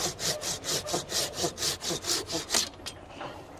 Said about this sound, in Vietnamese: cưa xéo như vậy thì được xéo bên này nè